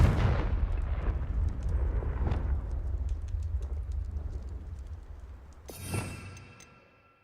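A Confringo spell explosion in Hogwarts Legacy bursts with a deep booming blast that rumbles and slowly fades, followed by a second smaller crackling burst near the end, with no voices.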